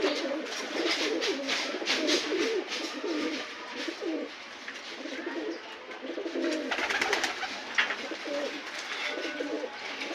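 Pigeons coo and squabble on a rooftop pigeon farm, with overlapping throaty coos and flapping scuffles under a steady outdoor hiss, fairly close and continuous.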